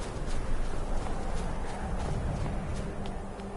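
A horse's hooves clip-clop in Skyrim played in PSVR, a steady run of soft thuds over a constant background hiss, with no talk.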